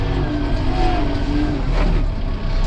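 A Kubota tractor's engine drones steadily and loudly up close while it hauls heavy logs, holding a constant low rumble under a faint higher whine, with no talking.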